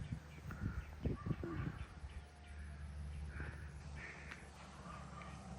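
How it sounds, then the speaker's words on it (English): Birds call on a farm in a Philippine province, with a few crow-like caws close by amid steady outdoor ambience and a voice speaking briefly. "You got some birds here too, huh?"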